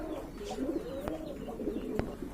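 Lahori pigeons coo softly in a low, rolling murmur, a few repeated coos close by with faint clicks and background noise, no talk.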